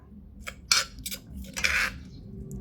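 Utensils clink against a bowl while kaffir lime leaves, red chili, lemongrass and galangal are mixed into eggs for steaming herbal chicken, several sharp clattering scrapes spaced irregularly, close and fairly quiet over a low background hum.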